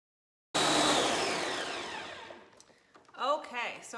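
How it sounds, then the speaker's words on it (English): A blender purees thawed frozen garden tomatoes into sauce, starting abruptly with a loud whirring roar that gradually eases and thins, then a short voice comes in near the end. "get all these tomatoes out of the water into the blender and blend it up"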